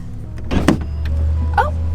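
A Tesla Model X Falcon Wing door opens with a short motor whir that cuts off abruptly, followed by a low steady hum with a faint brief click.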